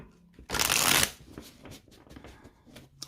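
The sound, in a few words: shuffling and cutting tarot cards for a reading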